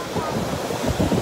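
Ocean surf rolls onto a beach with steady wash and wind buffeting the microphone, close and fairly loud, with no talk.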